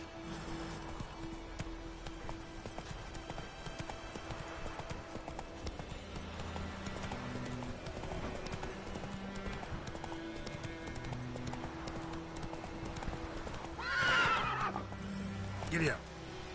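A horse in The Witcher 3 trots with a steady clip-clop of hooves, then lets out a sharp neigh near the end and a second brief whinny, all fairly quiet, with a voice speaking over it.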